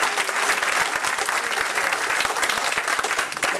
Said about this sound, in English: So all of you get a round of applause just in general